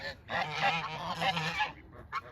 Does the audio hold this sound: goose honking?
yes